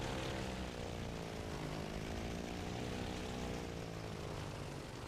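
A propeller aircraft engine drones loudly and steadily in IL-2 1946 as a plane throttles back for a carrier landing, its pitch shifting slightly as the power eases.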